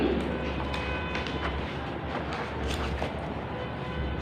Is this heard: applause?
no